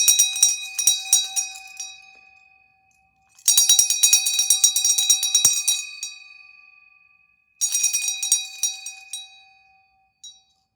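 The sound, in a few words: ringing a bell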